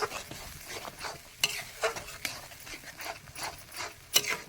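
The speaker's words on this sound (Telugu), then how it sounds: "పచ్చడి దంచుతా ఉన్నాను మిరపకాయలు దంచుతూ ఉన్నాను" Green chilies, with onions, are pounded into a chutney. Quick, irregular thuds and knocks of pounding repeat through the clip at close range, moderately quiet, with no one talking.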